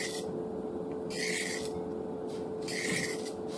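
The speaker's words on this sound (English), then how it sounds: "remember we're just gliding it across the diamond" A knife blade rasps across a Buck Edgetek diamond sharpening rod in three smooth, even strokes, each a close, gritty scrape separated by short pauses over a faint steady hum.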